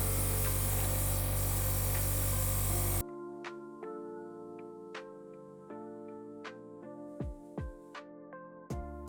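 Airbrush spraying a first coat of paint onto a handmade fishing lure: a loud steady hiss for about three seconds, then a quieter stretch with faint clicks and small mechanical taps.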